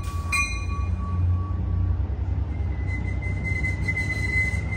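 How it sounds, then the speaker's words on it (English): Amtrak Capital Corridor train 728 pulling out of Oakland Coliseum station, a steady low rumble of rolling cars with a brief metallic clank near the start and a thin sustained wheel squeal rising later, heard close and continuous. "728, highballing to Sacramento. Now departing Oakland Coliseum Station."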